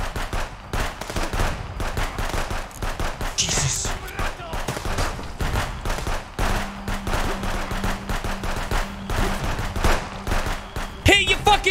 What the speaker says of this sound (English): Shots, George!